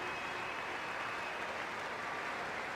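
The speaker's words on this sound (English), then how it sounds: "Let us send him off with a round of applause" Dense, continuous clapping from a large crowd in the video game Genshin Impact, steady and even in loudness throughout with no voices standing out.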